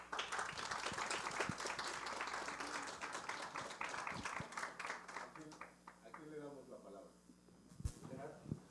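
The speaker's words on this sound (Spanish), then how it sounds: "Por favor, un aplauso" Audience applause for a speaker at a round-table event on digital images: steady clapping fills most of the stretch, then fades toward the end as a voice begins.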